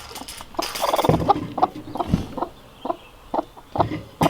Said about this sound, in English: The broody hens must still be in here.